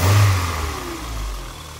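A 1992 VW Corrado 16v engine revs up loudly, then settles back toward a steady lower rumble with a slight bearing-like rattle, heard close by without any voices.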